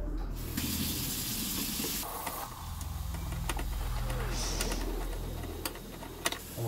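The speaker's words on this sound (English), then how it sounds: "We're gonna fill it up to the fill line here." Tap water running into a Peglyte colonoscopy prep jug, a soft steady rushing pour with faint room noise and a few light clicks, quiet and uninterrupted.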